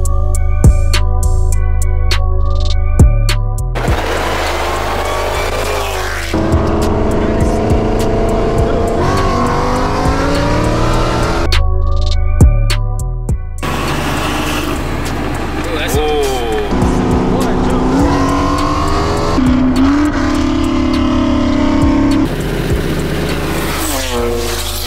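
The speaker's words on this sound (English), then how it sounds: "we got a turbo Mustang racing a ATSV" A turbocharged Ford Mustang GT and a Cadillac ATS-V race each other in a cash-pot street race, with loud engines revving hard, gears shifting, a burst of tire noise and the cars roaring past, along with some talking.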